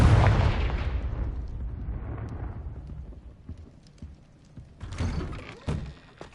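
Confringo explosive spell in the Hogwarts Legacy video game: a loud booming blast that rumbles and fades over a few seconds, followed by a couple of smaller thuds.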